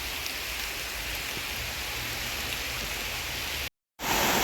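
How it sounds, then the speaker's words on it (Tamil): Steady heavy rain falls on a campsite beside Parramatta Lake in Sydney, a dense, even hiss that fills the scene close around. The sound cuts out for a moment near the end and then resumes. "நல்ல மழை ஒன்று வந்துட்டு அப்படியே இதில் கேம்ப் அடிச்சிட்டோம்"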